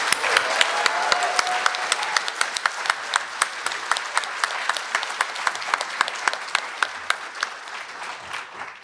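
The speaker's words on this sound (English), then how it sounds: "Please join me in another round of applause for Satsuki Ina." An audience applauds loudly, with sharp individual claps standing out from a dense wash of clapping that carries on for nearly nine seconds.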